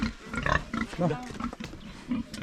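Large farm pigs grunt and squeal close by in a pen, their calls mixed in under steady talking.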